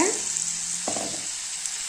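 Blended tomato puree hits a hot pan for a Tamil-style ivy gourd masala curry, giving a loud, steady close-up sizzle with a brief splash as it lands.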